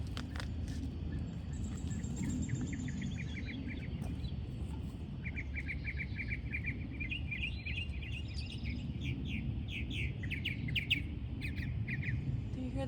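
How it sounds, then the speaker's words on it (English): Several birds sing and chirp outdoors in a garden during container planting, repeated bright trills and tweets scattered through the whole stretch over a steady low background rumble. "Hear the birds?"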